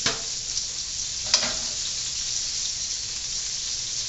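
Chicken pieces sear in a hot pan for chicken cacciatore, producing a constant close hiss of sizzling with one brief sharp pop near the start.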